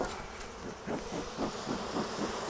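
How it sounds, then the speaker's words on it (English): Honey bees in a beehive buzz after being smoked, a dense droning hum that swells in repeated pulses of roaring, with no voices. "can hear a little bit of a roar in there every time I smoke"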